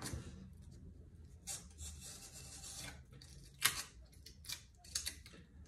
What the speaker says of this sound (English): I'm just kind of cutting on one side right now.